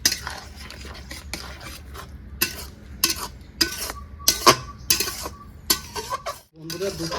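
A spoon stirs and scrapes pabda fish curry masala in a pan as it sautés with added water, irregular clinks and scrapes over a low background sizzle, close and fairly loud, no talk.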